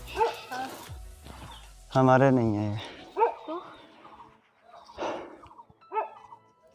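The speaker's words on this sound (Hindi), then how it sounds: "अभी यार कुत्ता खुला है यार।" A loose dog on a forest path near a ruined ancestral house gives a sharp whimpering yelp and a few short barks among people chatting nearby.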